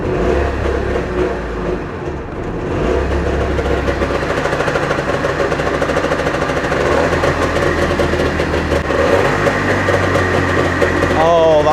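A Trabant's two-stroke engine cranks, fires and settles into a loud, steady, buzzing idle, heard close and continuous with voices talking over it.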